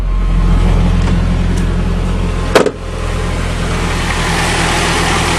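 An old Nissan car engine, carburetted and just revived after sitting through winter, running with a loud low steady idle rumble close by, a brief sharp clunk midway, then the even drone continuing, no talk.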